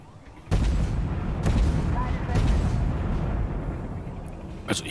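A tank cannon in the video game Armored Warfare fires, giving a sudden loud boom followed by a sustained rumble, with further sharp bursts later.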